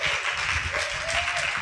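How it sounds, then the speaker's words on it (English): Audience applause greets a panel at a youth-focused event in South Africa, a steady dense wash of clapping that fills the short moment without pause. "Can we give them a round of applause?"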